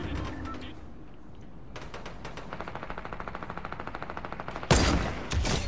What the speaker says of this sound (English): Headshot sniped a guy.